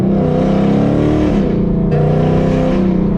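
A car fitted with a custom Comp cam and headers idles loudly up close, a deep, lumpy, continuous rumble that swells slightly partway through.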